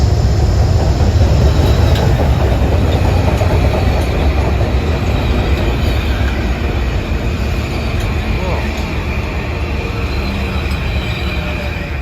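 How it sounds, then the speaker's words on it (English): An M7A commuter train on the Metro-North Harlem line rumbles loudly and steadily close by at 125th Street station, with a broad roar of wheels and faint squeals throughout. "Here comes train 747 for Croton Harmon, local. M7As."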